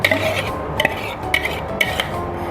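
A spoon or whisk stirs pear almond tart batter in a bowl, giving soft scraping with a few sharp clinks against the dish at irregular intervals, close and with no talking.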